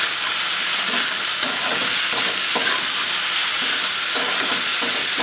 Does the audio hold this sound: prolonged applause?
no